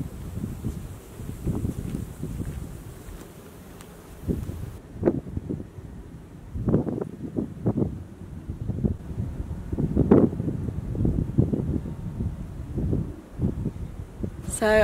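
Gusty wind on an uphill slope buffets and rumbles across the microphone in uneven bursts, with a faint steady hiss in the background for the first few seconds.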